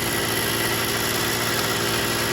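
A Piaggio Ciao moped engine runs on its own with a steady, dense, buzzing drone, close and loud, with no talking over it.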